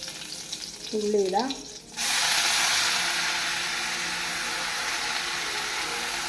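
Mustard seeds and curry leaves hit hot oil, and a loud, sudden sizzle bursts out and holds steady as a dense crackling hiss. Brief squeaky clatter comes just before it.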